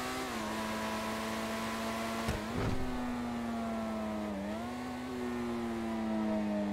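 Engine of an unreleased car in GTA Online revving steadily under a sustained harmonic drone, with a sharp rev blip around the middle, a brief dip and then a rise back to a high, even pitch.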